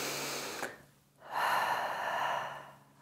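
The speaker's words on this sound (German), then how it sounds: "nochmal tief ein- und ausatmen." Deep breath in and out during a standing seniors' exercise session, a soft inhale followed by a longer, louder exhale, close and alone over a faint steady background hum.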